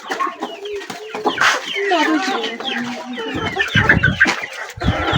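Chickens cluck busily at feeding time in an African village as maize is scattered for them, with overlapping near and far clucks and squawks throughout and a few people's voices mixed in.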